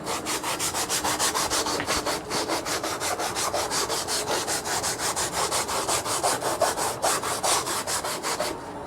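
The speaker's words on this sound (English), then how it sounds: "And we'll use this sanding block on here." Steady back-and-forth rasping of a sanding block scrubbing a rusty metal truck fender, rapid even strokes continuing for several seconds, close and fairly loud, no talking.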